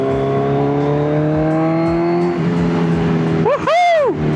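Kawasaki Z1000 motorcycle accelerating hard, its loud engine note climbing through the revs, then a brief dip and a fresh surge near the end, heard up close from the rider's position.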